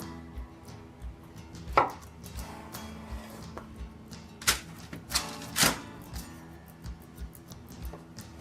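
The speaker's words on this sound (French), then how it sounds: "on va découper dans le sens de la longueur les 4 courgettes" Four courgettes sliced lengthwise with a knife on a cutting board for a polenta gratin: scattered soft knife strokes and a few sharp, louder chops against the board, close and without talk.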